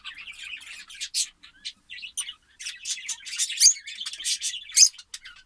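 Lovebirds in a cage give dense, high chirps and squawks in rapid, overlapping bursts, close by and fairly loud, with no talking.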